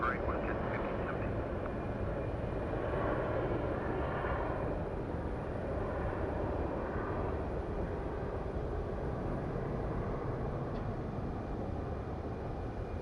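A WestJet airliner takes off from runway 25 right at Phoenix Sky Harbor, a steady broadband jet roar from start to finish, with voices talking over it.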